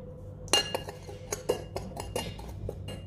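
Sugar being spooned into a bowl for a homemade coffee scrub, with a series of light metal spoon clinks and scrapes against a dish, close up and fairly quiet, no talking.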